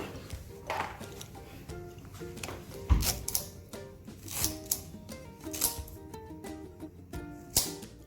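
Knife chopping ginger into small pieces on a kitchen board, a run of quick, close, crisp taps and knocks with uneven rhythm, no voices over it.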